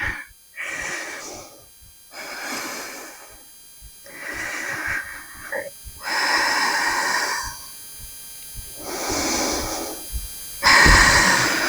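Deep, slow breaths in and out during a prenatal stretching exercise, six long audible exhalations spaced a couple of seconds apart, close and fairly soft, with no other sound between them.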